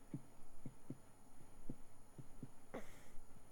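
A floating crystal in a video game gives off a soft, low heartbeat-like pulse, thumping in a steady rhythm about twice a second over a faint hum.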